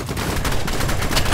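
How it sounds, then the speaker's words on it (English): A shotgun blast from the video game Rivals booms loudly and briefly, a single sharp burst with rattling echo in a hectic match. "someone has an infinite shotgun"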